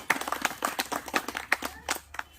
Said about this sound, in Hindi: आप सभी लोग इनका ताली मार के स्वागत करें